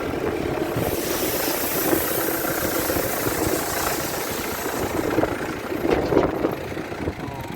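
Stacker machine unloading corn from a truck, a steady mechanical rumble and rattling of grain under a constant engine drone, moderately loud and continuous.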